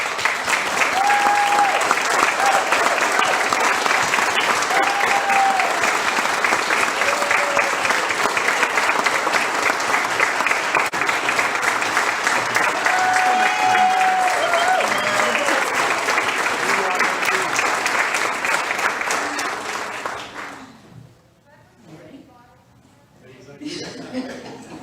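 Sustained round of applause from a banquet crowd for standing VFW members at a chamber of commerce membership dinner, loud and even for about twenty seconds before fading out.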